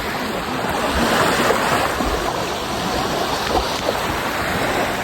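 Surf breaks on a sandy beach in a steady, loud, broadband wash, with occasional swells and a little wind buffeting the microphone.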